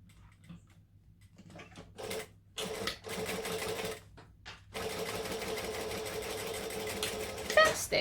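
A sewing machine stitches down the last tab of a zip-around wallet in short, close bursts of rapid mechanical chatter, with brief pauses between runs and a longer steady stretch near the end.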